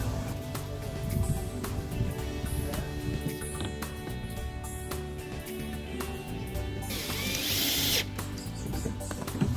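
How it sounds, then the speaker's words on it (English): A Dremel rotary tool cuts through wood siding on the roof of a backyard sandbox, giving a continuous close, high buzzing whine that grows harsher and louder near the end of the cut. "now I'm just going to take the old Dremel here and just cut it off so it's even with the roof"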